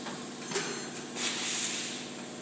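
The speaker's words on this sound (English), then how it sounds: "The wheel's moving to the starting position for a balanced loading sequence." An amusement ride wheel driven by touch-screen controls turns toward its loading position with a steady mechanical hiss and whir that swells briefly partway through.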